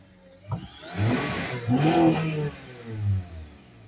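A 2009 Honda Accord engine, just fitted with new spark plugs and coils, revs up sharply from idle, holds a smooth rising whine for about a second, then eases back and gives one more shorter rev, close by and alone.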